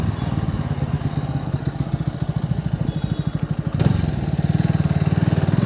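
Bajaj Pulsar NS200 motorcycle engine running nearby with rapid, throbbing pulses and a sharp popping crack partway through, then a steadier rev afterward.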